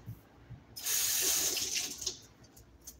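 Running tap water rinses a coffee grinder cleaning brush, a steady gush of faucet flow lasting just over a second with splashing tailing off, fairly close and without talk.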